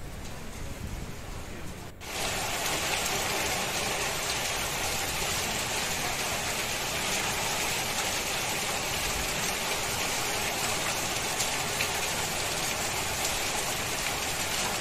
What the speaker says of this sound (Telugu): నైట్ అంతా వర్షం పడుతున్నది ఫ్రెండ్స్.